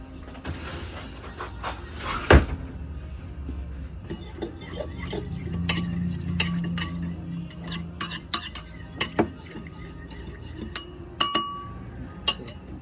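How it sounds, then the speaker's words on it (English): Melted butter seasoned with Old Bay being stirred for king crab legs, with a spoon clinking against the dish in scattered light taps and one louder knock, close by with no talk. "I'll stir it up a little bit."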